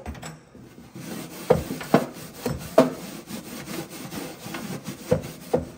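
Scrubbing crusted-on grime inside a Ninja Foodi oven, a close, rhythmic back-and-forth rasping with repeated sharper strokes and no talking.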